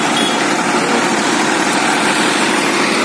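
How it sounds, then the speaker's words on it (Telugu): Large engine-driven pumps drain floodwater in Vijayawada, producing a loud, continuous, unbroken mechanical drone close by with no talk. "పెద్ద పెద్ద ఇంజన్లు పెట్టి కవర్ చేస్తున్నారు, మొత్తం తోడేస్తున్నారు వాటర్."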